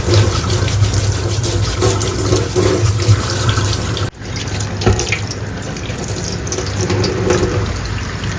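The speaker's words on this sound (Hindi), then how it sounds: "तो मैंने अंडा इसलिए धोया क्योंकि मुझे पूरा साथ में पकाना था ना" Tap water runs steadily into a kitchen sink while a raw egg is rinsed under it, a continuous close splashing hiss with a brief break midway, no talking.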